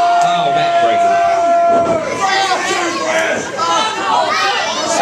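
A wrestling crowd at an SCW Friday show cheers and shouts in a loud, busy roar of overlapping voices, whoops and chatter that swells and dips across a few seconds.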